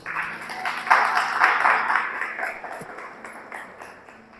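A church congregation claps briefly after a sermon reading, a short burst of applause that swells and then fades over a few seconds, with no voices.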